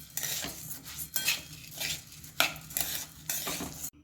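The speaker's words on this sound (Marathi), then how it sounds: "5 ते 6 मिनिट आपण ही डाळ छान अशी भाजून घेणार आहोत." Moong dal being dry-roasted in a pan, stirred with a metal spoon: a series of scraping, rattling strokes in a steady rhythm, close and moderately loud, with no talk.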